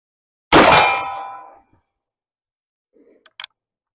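A single loud metallic clang as a bullet from a Remington revolving carbine strikes a steel target 31 yards away, ringing and decaying over about a second, followed by a few faint clicks.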